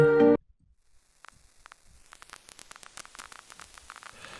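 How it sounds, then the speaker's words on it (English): Vinyl-style crackle and static from a distortion effect in Ableton Live: after a short tonal burst, sparse faint clicks and pops thicken into a denser crackle that steadily grows louder. "we have the volume for the crackle, which is a static noise"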